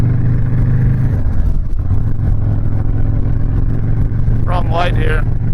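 A custom Stage III Harley-Davidson Sport Glide motorcycle engine on the move, a loud, steady low rumble under a rider's talking, with wind noise throughout.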